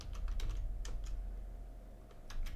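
Quick, close computer keyboard typing while code is entered for a Minetest mod, a run of crisp key taps in uneven bursts with brief pauses, alone with no talk.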